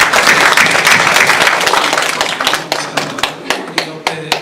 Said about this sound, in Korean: 우리 감사함으로 우리 성가대 찬양 격려의 박수 한번 다시 드립니다.